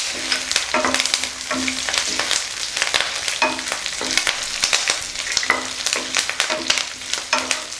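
Ingredients lightly frying in a pan for a peanut chutney, with a continuous sizzle broken by repeated scraping and clinking strokes of a spoon being stirred, close and fairly loud, with no speech.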